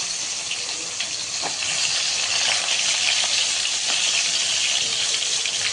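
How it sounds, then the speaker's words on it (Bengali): Potato pieces sizzle steadily in hot oil in a pan while being fried for a Bengali country-chicken curry, a dense, even hiss that stays loud and close throughout with no voices. "তেল গরমও হয়ে গেছে চল আলুগুলো দিয়ে দেওয়া হয়ে গেছে"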